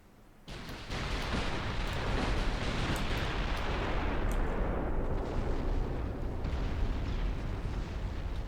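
Torpedo strikes hit a warship in a naval strategy video game about dreadnoughts: a sudden loud blast swells into a sustained, roaring explosive rumble that fills the scene with no voices.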